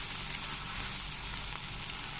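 A homemade mutton or beef burger patty sizzles and fries steadily on a hot griddle, a close, even hiss of spattering fat with no pauses.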